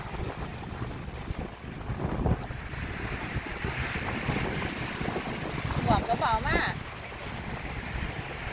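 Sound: strong wind at a lakeside beach, Torö

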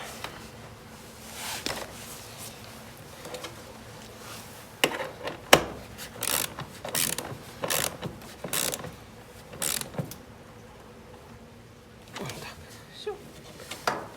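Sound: tightening nut with washer on generator grounding bolt

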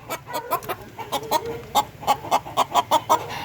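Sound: rooster on a native chicken farm

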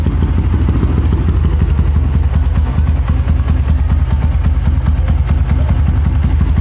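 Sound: Yamaha MX King motorcycle engine starting and running

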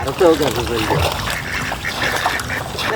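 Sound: ducks quacking and splashing in beel water

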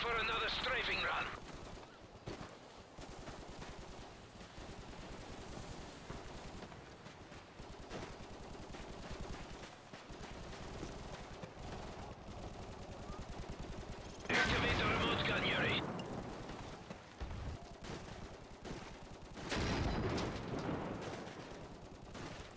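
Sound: strafing run gunfire in a video game

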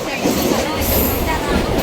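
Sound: fast train passing near Vasai

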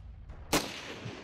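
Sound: hand grenade explosion in Ravenfield video game

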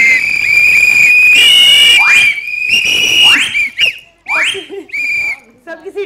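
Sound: group blowing whistles together

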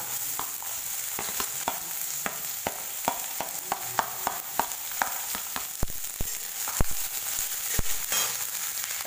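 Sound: onions frying in oil for mung dal

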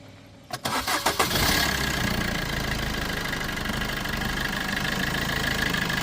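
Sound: diesel car engine starting

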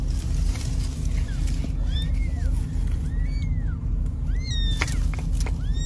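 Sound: kittens meowing in a storm drain

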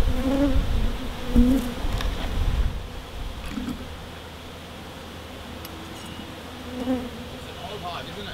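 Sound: bees buzzing at a wild hive in a power box

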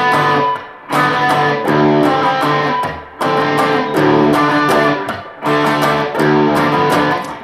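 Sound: Main opening riff played on guitar in DADGAD tuning

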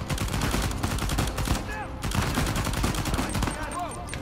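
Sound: gunfire in the video game Uncharted 4

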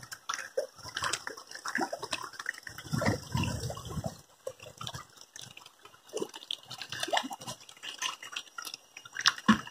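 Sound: water splashing as fish are taken from a tank

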